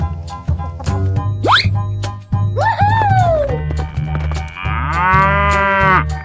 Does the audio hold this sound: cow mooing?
yes